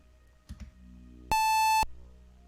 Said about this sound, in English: Good save confirmation noise.